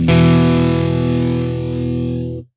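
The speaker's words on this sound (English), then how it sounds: "8-bit crush. I hate this thing," A Headrush guitar pedal set to an 8-bit crush effect sustains a single harsh, buzzy, heavily distorted guitar chord for about two seconds, then cuts off abruptly.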